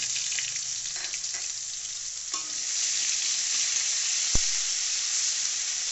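Chopped tomatoes and ginger paste fry in oil with black cumin, making a steady close hiss and sizzle that swells slightly after a stir, with one sharp utensil tap near the end.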